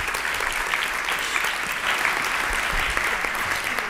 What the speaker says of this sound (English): So please recycle your last round of applause.